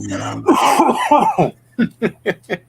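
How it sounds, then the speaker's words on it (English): Someone speaks briefly, then a run of five sharp coughs in an even rhythm, close and loud, with a low steady hum underneath. "He's got that Rona cough going"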